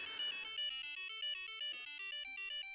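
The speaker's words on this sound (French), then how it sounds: "Donc vous avez le buzzer intégré que vous pouvez utiliser." A built-in buzzer plays a 1-bit melody in the style of a Nokia 3310 ringtone: rapid stepped square-wave notes in a steady, continuous run, fairly close and clear, with no talking.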